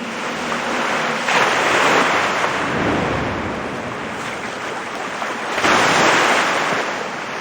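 Ocean surf rolls and crashes in broad swells with steady wind in a Dragon Raja game cutscene, two louder wave surges standing out, no voices.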